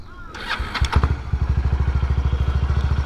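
A Kawasaki Estrella BJ250A single-cylinder four-stroke motorcycle cranks and fires up after a brief whirr, then settles into a loud, close, steady thumping exhaust beat with evenly spaced pulses.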